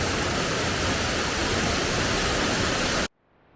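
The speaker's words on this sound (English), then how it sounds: "Welcome to Waterfall Raina." Rushing water of Queen Waterfall (Raina) in Mindo, Ecuador, a steady, loud broadband roar that holds constant for about three seconds before cutting off abruptly to near quiet.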